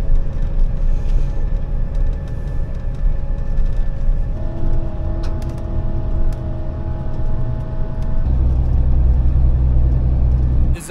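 Flixbus coach engine droning steadily while riding, a constant low rumble with a faint mechanical whine, shifting in tone partway through and getting louder near the end, with no talking.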